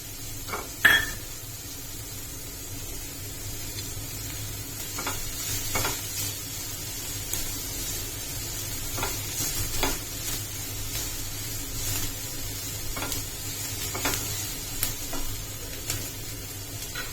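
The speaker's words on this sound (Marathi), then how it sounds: "कांदा थोडासा ट्रान्सपरंट झाला की मग आपण शिमला मिरची घालतोय" Onion and capsicum fry in a pan for crispy corn, a continuous low sizzle with occasional scraping stirs and clinks, close and steady with no talk.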